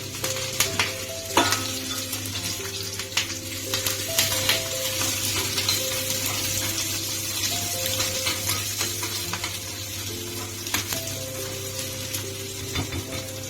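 Onion and curry leaves fry in oil after mustard seeds have spluttered, giving a steady close sizzle with scattered spoon scrapes and stirring clatter against the pan throughout, no voices.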